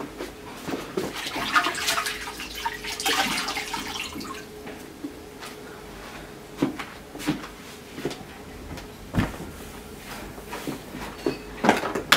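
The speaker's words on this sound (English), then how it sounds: "I have to use some water to wipe it" Water-dampened cloth wiping a whiteboard during a math lesson, heard as soft wet rubbing and scattered knocks and drips, fairly quiet, with no talk.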